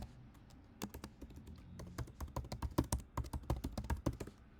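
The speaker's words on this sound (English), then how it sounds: "I'm going to type this in." A URL being typed on a computer keyboard: a quick, uneven run of crisp key clicks, close and fairly quiet, with no talking.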